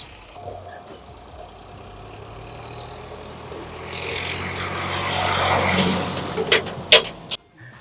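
Sonalika tractor engine driving over phones, a rumble that builds gradually and grows louder, ending in a few sharp cracks and knocks.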